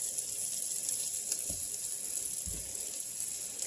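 Onions frying on very high heat in a pan for a fresh market vegetable stir fry, a steady, quiet hiss with a couple of soft knocks as the pieces are broken up.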